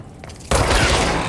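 Sudden burst of gunfire in the video game Control: The Foundation, a loud dense crackle of rapid shots that starts abruptly after a quiet moment and continues to the end.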